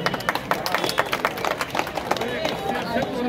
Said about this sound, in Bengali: সকলে আমরা অতিথিদেরকে হাততালির মাধ্যমে বরণ করে নেই।